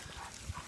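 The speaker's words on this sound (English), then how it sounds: "That's an excited bark." An excited dog lets out a single short, fairly loud bark outdoors in snow, with faint low background noise around it.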